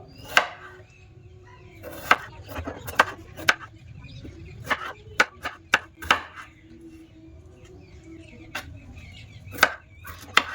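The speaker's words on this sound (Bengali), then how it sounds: "এবার আমি আলুগুলো ছোট ছোট পিস পিস করে কেটে নেব" Knife chopping potatoes into small pieces on a cutting board, irregular crisp taps in quick bursts separated by short pauses, close and clear.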